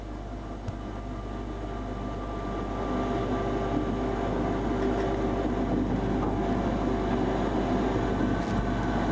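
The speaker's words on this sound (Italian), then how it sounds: "mentre il treno riduce la velocità per il rallentamento a 65" Steady, loud rumble of an electric train heard from the driver's cab on the Pontebbana line between Udine and Tarvisio, running continuously and easing its speed as it brakes for a slowdown to 65, with no talk.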